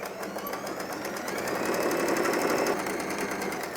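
A home sewing machine stitches a fabric scarf in a steady, rapid mechanical whir with fast, even needle clatter that swells slightly midway, close and alone with no voices.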